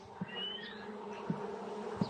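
Honey bees buzz at a hive frame that is being capped, a faint, steady drone with a few soft knocks, heard up close.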